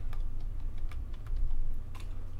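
Fingers type a short command on a computer keyboard, a quick irregular run of crisp, close key clicks over a faint low hum, with no voices.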